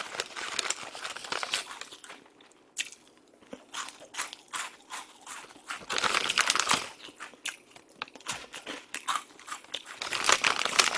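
Close-up chewing of crunchy snacks: irregular crisp crunches and crinkly bites come in bursts, loud near the mouth, with quieter pauses between.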